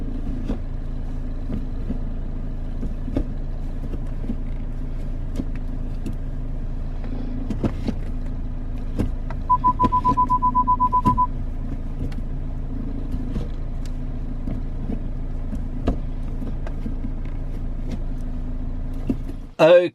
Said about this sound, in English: that was just me going through all of the gears, including reverse, and I actually just took it out for a nice little drive as well